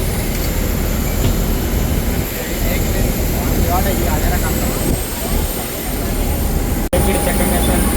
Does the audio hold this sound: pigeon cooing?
no